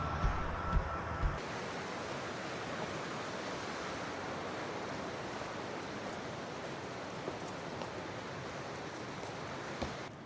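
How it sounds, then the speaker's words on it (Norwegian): A nearby river flows with a steady, broadband rushing wash that fills the air evenly and never lets up, a few faint knocks sitting near the start. "det er en elv som renner ned her"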